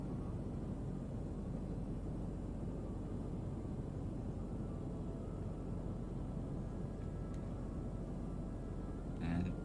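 Piper PA28 light aircraft in a flight simulator rolling down the runway after landing, a low steady engine and rumble hum at modest level beneath a voice, with a brief click near the end.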